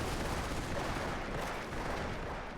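MG42 machine gun fire in the Company of Heroes strategy game, a dense, continuous rattle of rapid automatic shots mixed with surrounding battle noise, steady and loud throughout with no talking.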